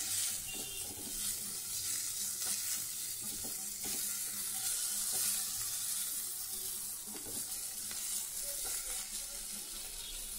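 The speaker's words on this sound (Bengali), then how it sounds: "দেখো সুন্দর করে কষিয়ে নিচ্ছি।" Curry masala stir-fried in a pan, a continuous low sizzle with soft, repeated scraping strokes of a spatula, faint and close with no talk.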